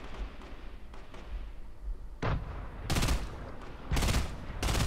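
Bursts of gunfire in Fortnite, with a short volley near 2.2 s and then two heavier rapid bursts around 3 and 4 s. The shots are loud and close over a low rumbling game background, and there is no talk.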